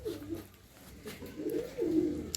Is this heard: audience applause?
no